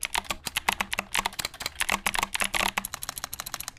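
Rapid typing on a mechanical keyboard with Cherry MX Green switches: crisp, clicky keystrokes heard up close in quick irregular bursts, with no voices.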